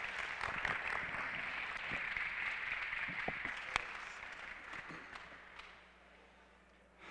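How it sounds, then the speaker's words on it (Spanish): Audience clapping to welcome a speaker to the stage, a moderate, steady patter that thins out and fades over several seconds with scattered individual claps near the end. "no se merece más que un fuertísimo aplauso de parte nuestra"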